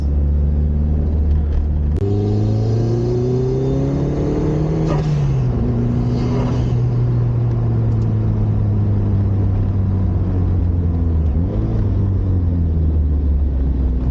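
Turbocharged Lotus Elise accelerating hard, the engine tone climbing through a shift with a brief whooshing burst around a gear change, loud and close inside the car, with no one speaking.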